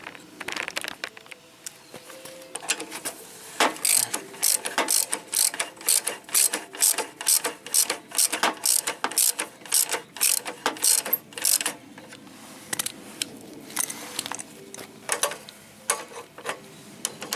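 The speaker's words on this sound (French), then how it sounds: "après on va remonter le boulon" Rapid, steady ratchet clicks as a bolt is tightened on a Snapper ride-on mower during a variator repair, loud and close in quick repeated bursts with no talk.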